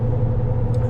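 Ram Rebel pickup truck rolling on 35-inch mud tires, a loud steady low tire and road rumble heard from inside the cab, with no voices.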